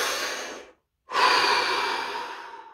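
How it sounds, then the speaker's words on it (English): A person takes a long, deep breath in through the body during a guided relaxation session, a steady airy rush interrupted by a brief silent pause before a second, fuller inhale or exhale, close and clear with no speech. "So here we go again. Deep breath,"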